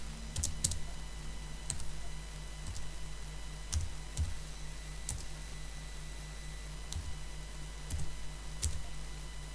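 Keys tapped on a computer keyboard while a microcontroller part number is entered, giving sparse, separate clicks spread over several seconds against a steady low electrical hum, with no voices.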